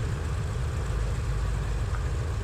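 Airliner's number 3 engine spooling up during start at Dnipro International Airport, a steady low rumble with broadband roar holding evenly and loud throughout, no talking.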